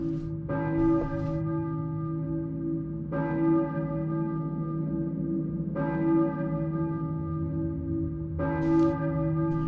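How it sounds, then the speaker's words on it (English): A church bell tolls in the Silent Hill video game, four slow, evenly spaced strikes, each ringing out with a long, sustained metallic hum that blends into the next. It is loud and clear, with no talking over it. "I hear a church bell, maybe?"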